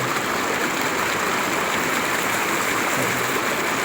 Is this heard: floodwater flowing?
yes